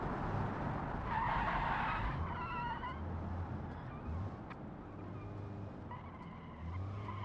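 In the video game Automation, an old-tired 1970s Soviet car skids sideways, a harsh hiss of tire scrub rising then settling into intermittent squeals over a low, continuous engine rumble.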